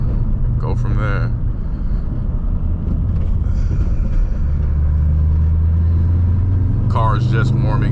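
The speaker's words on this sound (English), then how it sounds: "Car is just warming up." A 500 hp 2003 Cobra's engine warming up at idle, a deep, loud, continuous rumble heard from inside the car, with brief voices over it.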